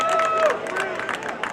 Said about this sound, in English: Crowd really getting into it here.